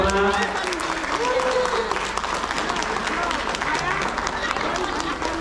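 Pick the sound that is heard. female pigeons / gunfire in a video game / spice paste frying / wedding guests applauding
wedding guests applauding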